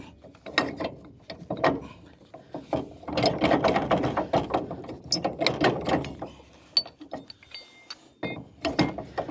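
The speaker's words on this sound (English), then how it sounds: "I'm just gonna flip this ball hitch around and we're gonna hook up the chipper" Metal ball hitch being flipped around and reset before hooking up a wood chipper outdoors, giving a run of close clanks, ratcheting clicks and knocks at an irregular rhythm, with faint bird calls behind.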